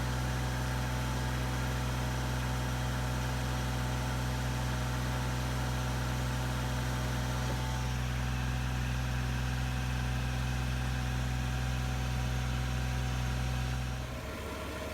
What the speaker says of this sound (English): I let the car run a little bit longer to see if it would warm up anymore